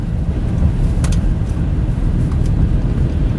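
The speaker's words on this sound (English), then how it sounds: "It's the tires." Car tires roaring steadily on the road while driving through a major Midwest winter storm, a dense continuous rumble from inside the vehicle with no talking.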